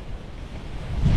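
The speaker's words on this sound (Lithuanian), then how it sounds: "Bet labai gusinga, labai vėjuota." Strong, gusty wind of an approaching sandstorm in Israel roars and buffets the microphone in a brief, rising burst.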